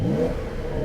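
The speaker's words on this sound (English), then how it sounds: "I wanna go on throttle" A 2024 Porsche 911 Carrera T with a manual transmission revs on the throttle, giving a loud, steady, low engine roar that fills the whole brief moment.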